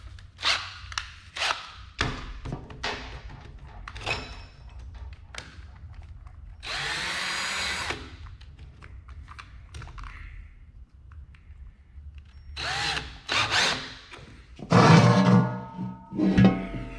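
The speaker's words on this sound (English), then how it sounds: "take it down with this step drill" A power drill with a step bit enlarges a pilot hole in a metal gas can in several short bursts, then grinds steadily for about a second, with clanks and handling noises between the runs.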